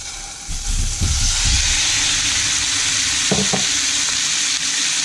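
Thin slices of steak for a Philly cheese steak sizzle and fry in a hot pan, a steady loud hiss throughout with a few brief clatters of meat being laid and spread.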